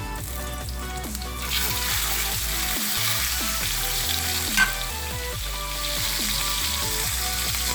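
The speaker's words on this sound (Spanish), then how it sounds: "aquí viene la cebolla y el jitomate también, que se pone a freír un poco" Onion and tomato for mole sizzle steadily in a hot pan, a continuous close frying hiss with occasional crackles and soft stirring, no voices.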